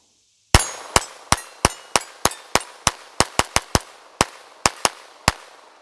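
A Kel-Tec P17 .22LR pistol emptying a full magazine, about fifteen sharp, loud shots in a quick, slightly uneven rhythm with a brief pause near the end.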